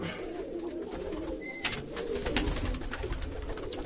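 Pigeons coo nearby in low, rolling calls that repeat over a steady background, with no talking.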